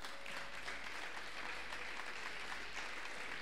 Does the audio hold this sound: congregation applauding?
yes